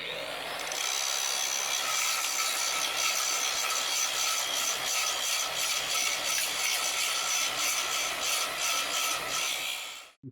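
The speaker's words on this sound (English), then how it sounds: "I'm going to go ahead and grind those flat" A grinder grinding welds flat on steel targets gives a loud, steady, harsh hiss that runs unbroken for about ten seconds, then cuts off abruptly at the end.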